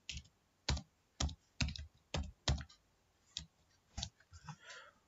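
Java code is typed on a computer keyboard: about a dozen close, quiet keystrokes in an uneven rhythm, with clusters of taps separated by brief pauses.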